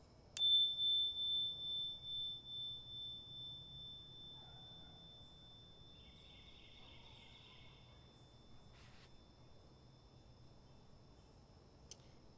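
A Meinl Sonic Energy Venus chime is struck once and rings with a clear, high tone. It pulses gently as it slowly decays to near silence over several seconds, heard alone and quietly.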